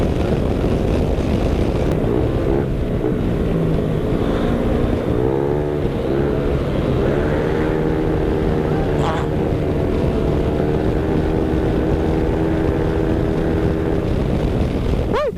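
A motorcycle engine at full speed gives a loud, steady drone that holds near one pitch, with small rises and dips as the bike runs.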